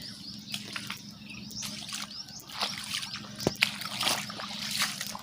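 Rainwater trickles and sloshes after torrential rain during flooding in Pakistan, a soft continuous watery wash with scattered faint bird or insect chirps in the background.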